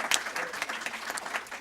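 Mourners at a funeral break into a short burst of applause, a dense patter of clapping hands that rises and fades within a couple of seconds.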